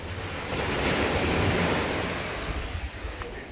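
Ocean surf breaking on a beach in Barbados, a steady broad wash of waves rolling in from a distance, with wind rumbling across the microphone and no voices.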